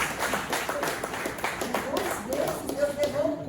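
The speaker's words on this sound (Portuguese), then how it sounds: "Vamos aplaudir o sangue de Deus." A church congregation claps together during a healing and deliverance service, a steady run of hand claps going on beneath a voice talking over it.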